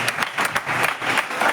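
A church congregation claps together in a dense, rhythmic burst of applause that stays close and fairly loud throughout, with no speech.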